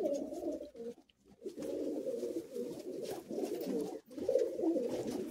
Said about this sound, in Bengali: জোড়া দুমের পায়রা।